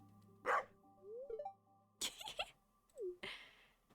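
A dog barks a few separate times in the farming video game Stardew Valley Expanded, short sharp yips alongside soft chiming game tones and quiet background music, with no voices.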